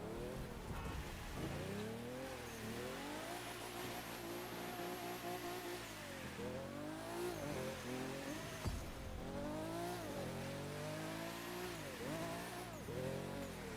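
A Nissan Skyline GT-R R34 drift edition in The Crew 2 revs hard and steadily through the whole stretch, its engine note rising and falling in repeated sweeps as it slides, with occasional faint tire squeal and no talk.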